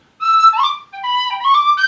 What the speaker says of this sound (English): to illustrate the whistle, the very simple instrument